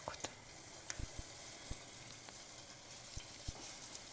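Meat pirozhki laid seam-side down in hot oil fry with a soft, continuous sizzle, punctuated by scattered pops and crackles and a few handling knocks, quiet and close.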